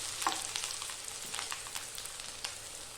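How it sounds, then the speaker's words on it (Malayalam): Five garlic cloves and a piece of ginger are stirred and fried in a pan for chicken roast, making a steady close crackling sizzle with quick scraping strokes running throughout. "5 വെളുത്തുള്ളി, 1 കഷ്ണം ഇഞ്ചി എന്നിവ ചേർത്ത് ഒരു 2 സെക്കൻഡ് ഒന്ന് ഇളക്കുക"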